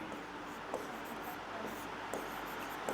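Chalk or marker writing on a board during a chemistry lecture on the solid state, faint scratchy strokes repeating at intervals over quiet room tone, with no voice heard.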